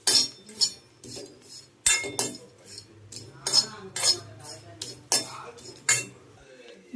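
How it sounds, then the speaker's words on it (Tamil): Cardamom and dry ginger being dry-roasted in a pan, a metal spatula scraping and clinking against it in a steady, repeated rhythm, fairly close and clear with no talking. "அடுத்து வந்து நம்ம ஏலக்காவையும் சுக்கையும் போட்டு லைட்டாக ஒரு 10 செகண்ட்ஸ் வறுக்க போகிறோம்"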